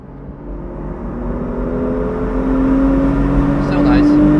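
A modified Kia Stinger accelerating to overtake a truck, the engine note climbing steadily in pitch and growing louder from inside the cabin, with a faint voice briefly near the end.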